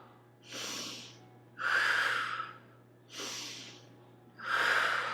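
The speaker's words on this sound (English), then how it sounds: "Take 3 deep breaths." Four close, audible breaths during a yoga pose alternate between softer and fuller airy draws, evenly spaced about every second and a half over a low steady hum.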